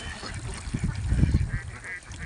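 A huge flock of thousands of ducks on a wetland, heard as a rough chorus of nasal honking quacks that swells and overlaps through the whole stretch, moderately close with a faint hiss behind it.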